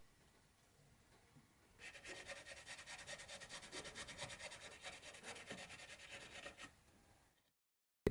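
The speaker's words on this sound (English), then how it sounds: "Finally, the wax is buffed with a rag, which gives it the sheen I'm looking for." A wax finish on a cherry wood chair is buffed with a rag, producing a steady, quick rubbing swish up close that starts after a quiet moment and stops abruptly near the end.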